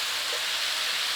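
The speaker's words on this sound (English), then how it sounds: "sizzling chicken" A steady, dense hiss of chicken sizzling in a frying pan, constant and fairly loud with no talking.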